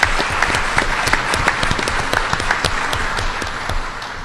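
Audience applause at a New York Rising community reconstruction meeting attended by the governor, a dense, steady wash of many hands clapping close by for several seconds with scattered sharper claps, no talk.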